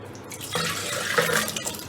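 Soaked tamarind and dried plums are poured with their soaking water into a cooking pot, giving a close, continuous splashing trickle that swells and wavers for under two seconds.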